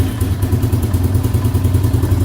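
A 1988 Suzuki LT300e ATV with electric start runs close by, its engine putting out a steady, rapid, chugging idle with a slight clattering rhythm.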